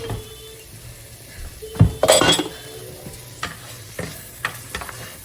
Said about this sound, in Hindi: और अब इसको आपने थोड़ा सा अच्छी तरह से भून लेना है और ताकि इसका जो कच्चापन है लहसुन का वो जो है वो ख़त्म हो जाए।